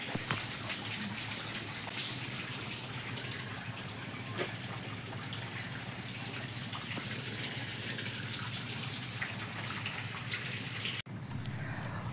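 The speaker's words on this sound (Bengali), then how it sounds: "200 থেকে 300 ফিট গভীরতায় এর কিন্তু বোরিং করা রয়েছে। তো প্রচণ্ড কিন্তু জল দেয়" Water gushes hard from a borewell drilled 200 to 300 feet deep, pouring into a farm field as a loud, unbroken rushing roar close by.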